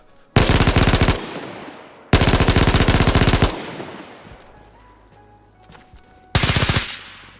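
Three long bursts of rapid automatic gunfire from an unmodified gun with no attachments in the video game DayZ, loud and close, each trailing into a reverberant decay with a faint tone between bursts.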